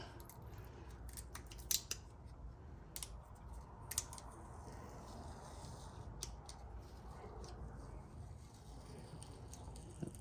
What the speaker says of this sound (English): Paper coming off on the label.